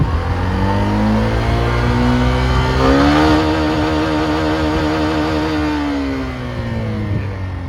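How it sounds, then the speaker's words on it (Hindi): Hero Xtreme 125R motorcycle held at top speed in fifth gear, a loud, close engine whine that climbs in pitch then holds near the limiter with steady wind rush. "5वें गियर में अब मैं आपको इसकी मैक्सिमम स्पीड दिखाता हूँ"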